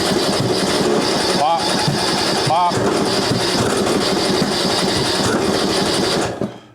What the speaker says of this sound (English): the popping tells me the timing might be off